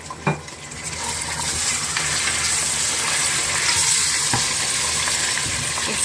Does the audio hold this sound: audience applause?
no